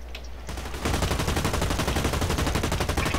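Rapid automatic gunfire in a video game, a loud, dense, steady burst of machine-gun shots that starts after a brief quieter moment and carries on without talk.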